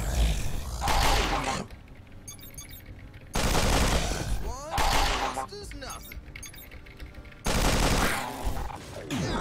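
Assault rifle gunfire in a video game: three loud rattling automatic bursts of a couple of seconds each, separated by quieter gaps with mechanical clinks and metallic rattles.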